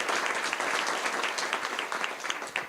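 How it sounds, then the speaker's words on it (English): An audience at a public safety enforcement event in Denver breaks into a dense, steady round of applause that fills the whole short stretch, with scattered individual claps standing out. "Another just round of applause for this amazing community and its organizers,"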